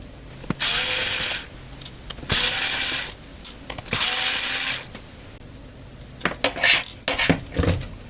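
Small screws being unscrewed to free the circuit board of a defective BYEASY 3.5-inch bay card reader from its metal bracket: three long bursts of high, whirring driver noise with ticking gaps, followed by a few short metallic clicks and rattles.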